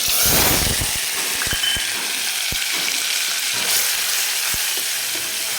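Ground onion fries with cumin in a pan until golden, a loud, close, steady hiss with scattered sharp pops and stirring clicks throughout, no voices.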